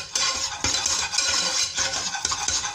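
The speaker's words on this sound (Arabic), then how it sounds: "انا نحط الملح، نبقى نحرك" A utensil stirs béchamel sauce in a pan, with repeated close scraping strokes and occasional light clinks against the metal, a loose rhythm of swishes at moderate loudness, no talking.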